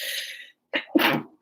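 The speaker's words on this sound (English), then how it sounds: "I gotta sneeze" A person reading aloud gives one sharp sneeze up close: a short breathy intake, a brief pause, then an explosive burst that trails off quickly.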